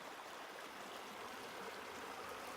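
The San Juan River flows with a steady, broad rush and a soft, continuous babble close by, with no voices over it.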